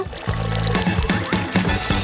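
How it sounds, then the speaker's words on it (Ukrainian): Lemon juice is squeezed from a small hole in a lemon into a glass to make lemonade, a steady liquid pour and trickle close by with soft rhythmic pulses, no talking. "видавити весь сік у склянку"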